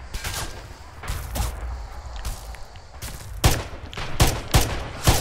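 Gunfire in the video game Red Orchestra 2, a World War II shooter: sharp, loud shots in quick irregular bursts with a rumbling battlefield background, becoming denser and louder toward the end.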